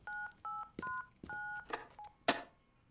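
Touch-tone keypad beeps from a telephone number being dialed in the video game Dr. Langeskov, about six dual-tone presses in quick uneven succession, followed by a few clicks and a sharp louder knock near the end.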